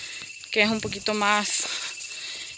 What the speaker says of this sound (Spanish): Estas aquí les llamamos chicharras.